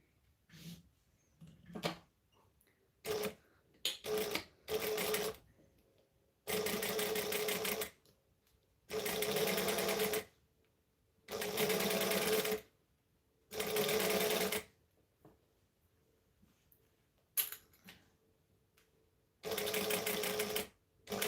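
A sewing machine stitches fabric in repeated bursts of steady whirring, each lasting a second or two and separated by short quiet pauses, close up and clear, along with a few quick clicks between runs.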